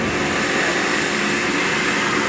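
A garnet abrasive blast cabinet runs with a steady, dense hissing roar of air and grit, constant and close for a couple of seconds, with no voices.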